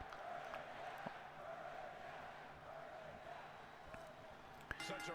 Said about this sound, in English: Or what the crowd is saying right now, burn it down.